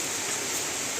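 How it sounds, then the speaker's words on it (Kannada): Heavy, nonstop rain pouring outside a home in North Karnataka, a steady dense hiss with no breaks that fills the whole clip, with no voices. "ಈ ದಿನ ಮಳೆ ನೋಡ್ರಿ, ಮಳೆ ಎಷ್ಟು ಮಳೆ ಇರ್ತಿದ್ದೇವ ರಾತ್ರಿಯಿಂದ ಹಿಂಗೈತೆ ಮಳೆ, ಸಿಕ್ಕಾಪಟ್ಟಿ ಮಳೆ."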